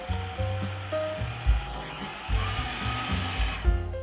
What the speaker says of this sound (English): let's get these in the food processor. All right, let's whiz this up.